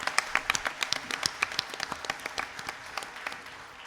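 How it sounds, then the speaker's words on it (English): An audience gives a second round of applause after a Bharatanatyam arangetram dance performance, a modest, fairly distant patter of individual claps that thins out toward the end. "I think that deserves a second round of applause"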